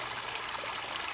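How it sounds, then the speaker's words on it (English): Water flows steadily through a woodland garden in winter, a soft, continuous trickling rush heard alone at low level. "there's much more water flowing through it, and so you get to hear the water"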